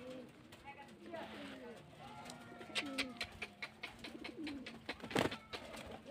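Rajshahi giribaj pigeons coo and stir inside a loft, soft rolling calls with scattered wing flutters and a sharper burst near the end, while someone talks over them.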